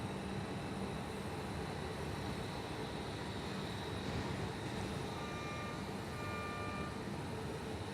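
Jet airliner taxiing along a taxiway at Perth Airport, a steady broadband engine roar that stays constant and moderately distant throughout, with faint tonal whines drifting in near the end.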